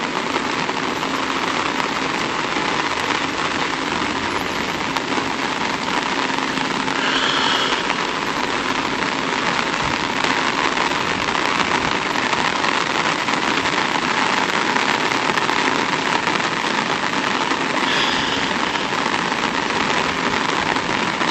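Rain falls steadily and heavily outdoors at a used-car lot, a dense, even hiss of drops that continues for the whole span without a break.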